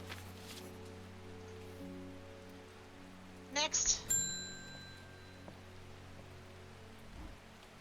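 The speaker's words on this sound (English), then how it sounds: "Does it ever stop raining in Undermere?" Steady rain patters throughout a rainy scene in Undermere from the video game Strange Horticulture, under low music drones, with a bright chime and a brief spoken word in the middle.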